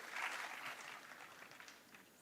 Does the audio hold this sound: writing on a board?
no